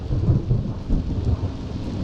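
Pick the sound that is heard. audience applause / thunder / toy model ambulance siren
thunder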